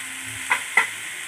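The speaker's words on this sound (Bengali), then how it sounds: "এবার এটাকে ভালো করে নাড়বো" Elephant foot yam curry with chili and turmeric powder being stirred in a pan: a low sizzle beneath two quick scraping strokes of a spatula close by, heard alone.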